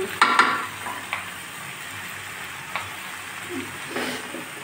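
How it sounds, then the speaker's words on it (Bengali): Pointed gourd, potato and mustard sauté in a pan, with a soft continuous sizzle broken by a few sharp scrapes and knocks of stirring; no one speaks. "পটলের সঙ্গে আলু আর সর্ষেটা ভালো করে আর একটু কষিয়ে নেব।"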